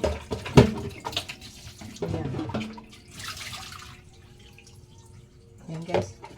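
Tilapia is rinsed by hand under running water, with splashing, dripping and brief sloshing bursts, close and moderate, while a person talks over it.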